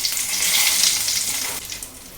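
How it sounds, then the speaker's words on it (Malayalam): Curry leaves hit hot oil with popped mustard seeds in a pan for a vendakka pachadi tempering, sending up a loud, close, hissing sizzle that eases slightly toward the end. "കടുക് പൊട്ടിക്കഴിഞ്ഞ് വേപ്പില ഇടുക."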